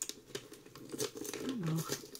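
A gift parcel being unwrapped up close, paper crinkling and rustling in short bursts, with a brief soft voice partway through.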